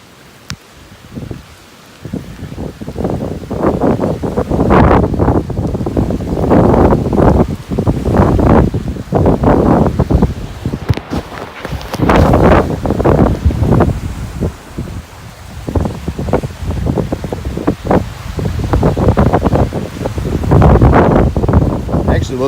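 Hurricane Gordon's winds buffet the sound side at Navarre, Florida, in loud, surging gusts that roar against the microphone over churning surf, rising and falling in rough waves of noise.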